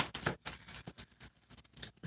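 Tarot cards are shuffled by hand in a rapid series of crisp riffling and snapping bursts, close and fairly loud, with no voice over them.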